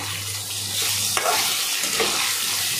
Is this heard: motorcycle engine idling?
no